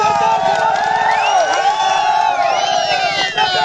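A large protest crowd at a sit-in rally in Uttarakhand cheers and shouts loudly and continuously, many voices overlapping in a dense, near roar with whoops rising above it.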